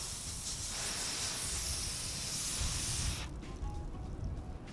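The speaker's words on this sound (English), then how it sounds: "So let's spray this." A close, steady hiss of Rain-X glass water repellent spraying from a nozzle onto a car window for about three seconds, then stopping, leaving faint dripping and rustling.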